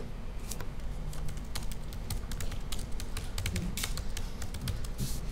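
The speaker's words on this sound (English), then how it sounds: "And now this guy is typing in stuff." Quick, uneven keystrokes on a computer keyboard while typing into Notepad, close and clear over a faint steady hum, with no talking.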